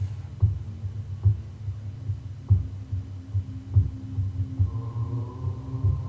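A slow, steady heartbeat thumps at regular intervals over a deep sustained hum during an online meditation ritual; a soft tonal drone joins near the end.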